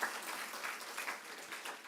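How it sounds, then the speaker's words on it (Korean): Church congregation applauding during a Sunday service, a short burst of dense, moderately faint clapping that runs evenly for a couple of seconds with no speech over it. "박수 한번 더 쳐주시면 감사하겠습니다."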